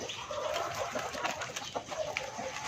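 Chickens, including a brown hen, cluck softly and intermittently nearby while eating leaves, with light pecking and rustling sounds underneath.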